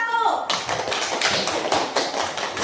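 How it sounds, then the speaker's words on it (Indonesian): Classroom group of pupils clapping together for a team, a dense rapid patter of many hands close by, starting abruptly after a brief bit of speech and continuing steadily. "Kasih tepuk untuk kelompok 1."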